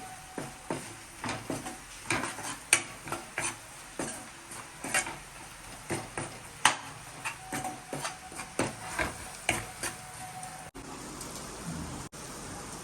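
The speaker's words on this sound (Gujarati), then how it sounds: "આ મસાલાને પણ ડુંગળી સાથે સારી રીતે મિક્સ કરી દેવાના છે" A utensil scrapes and taps against a pan in a steady rhythm while a spice mix is stirred into onions, a run of close clinks and scrapes that stops near the end.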